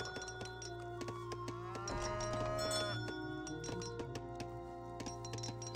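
Cows moo in the Age of Empires 3 strategy game, a drawn-out lowing call rising over steady in-game ambience with repeated small metallic clinks and chimes; no one speaks.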